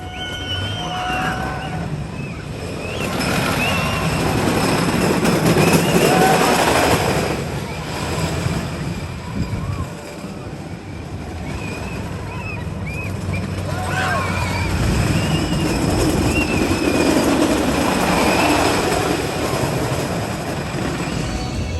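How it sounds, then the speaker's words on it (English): Ride on the Kentucky Flyer, a small Gravity Group wooden roller coaster at Kentucky Kingdom: a continuous rumbling, rattling roar of the train on the track with surging wind noise, loud throughout, with people's voices mixed in. "Flyer, which is a small little gravity group wooden roller coaster."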